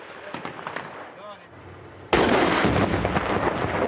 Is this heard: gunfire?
yes